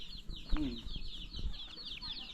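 Chickens cluck in short bursts close by on a rural property, while thin bird chirps carry on steadily high in the background.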